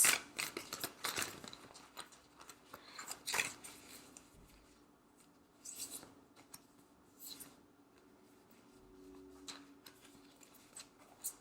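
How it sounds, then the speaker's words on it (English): A deck of tarot cards is shuffled by hand, crisp riffling flutters and soft snaps coming in uneven bursts, close and quiet, with lighter ticks and taps between them. "I'm gonna shuffle one last time."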